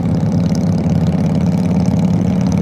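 A nearby motorcycle with loose straight-through exhaust pipes rumbles at low speed on a country road, a deep, steady, loud throbbing drone with no pauses.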